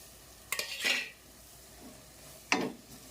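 Spices and masala powders being stirred into a pan for vankaya pulusu, an Andhra brinjal stew: two short bursts of spoon scraping against the pan with a soft sizzle, close and clear, with quiet pauses between.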